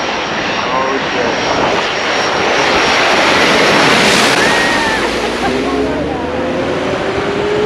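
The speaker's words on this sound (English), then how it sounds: "We have an incoming plane." A fixed-wing airplane making its landing approach at St Barth airport, its engine roar loud and broad, swelling to a peak mid-way, over beach surf, with people's voices mixed in.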